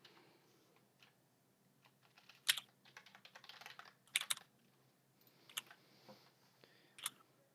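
Code being typed on a computer keyboard in short irregular bursts of close, crisp key clicks, with quiet pauses between the flurries and no talking.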